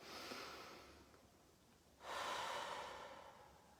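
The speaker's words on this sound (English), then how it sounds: "and just breathe." A slow, deep breath during a guided meditation: a soft, faint exhale fades out, a pause follows, then a fuller, longer breath comes in close to the microphone.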